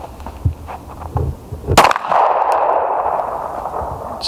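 Pistol shots ring out at an arctic shooting competition: a sharp, loud crack stands out among several fainter pops and knocks, followed by a lingering rumbling echo and wind-like noise.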